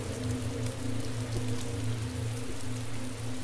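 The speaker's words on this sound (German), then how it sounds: "Dieser Regen, Mann, das soll echt nicht sein müssen." Steady rain in the video game DayZ, a dense continuous patter on surfaces with a low rumbling wash beneath, even and unbroken throughout, no voices.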